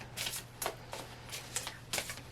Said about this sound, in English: So I'm going to get these shuffled up